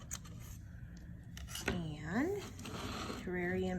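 Scissors snip through twine while finishing a terrarium, a few short, crisp cuts early on before a voice talks over the rest.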